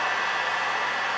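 A heat gun blows a steady, close, even hiss while warming carbon fiber vinyl wrap during removal, with no talk over it.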